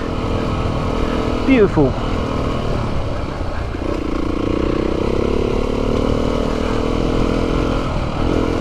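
A Beta 390 RR enduro motorcycle rides a forest trail near Hindhead, its engine a steady, close drone with small shifts in pitch while someone talks over it.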